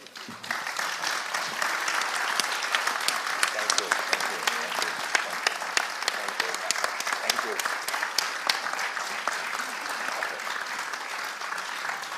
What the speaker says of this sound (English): And once again, round of applause to Mr. Lim as well as the moderators.